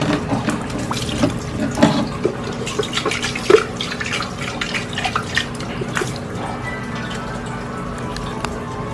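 Running water splashes and trickles steadily as a betta fish tank is rinsed of algae, with irregular sloshes and drips close by.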